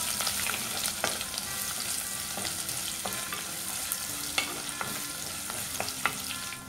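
Chopped garlic and ginger frying in a pan while being mixed, a continuous close sizzle with repeated light scrapes and taps of a spoon against the pan, no voices.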